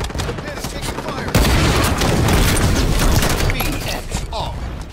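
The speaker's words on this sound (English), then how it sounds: "Throwing grenade!" A grenade blast in the Halo 5 video game hits hard and close, a dense explosive roar that overwhelms the ongoing gunfire and rumbles for several seconds.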